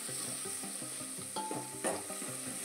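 Garlic sizzles steadily in a pan over medium heat with a soft, even crackle, broken by a few brief scraping stirs as it is tossed; no one speaks.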